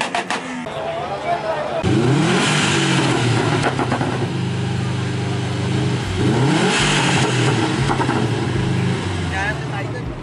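A Honda Civic EK9 Type R with a D16 engine revs hard nearby, two long rising blips climbing and falling back, loud and rough, with people talking over it.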